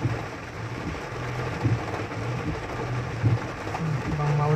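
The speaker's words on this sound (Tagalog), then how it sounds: "Lakas ng ulan." Heavy rain pours steadily as a dense, even hiss, with voices talking faintly underneath and occasional low thumps breaking through the downpour.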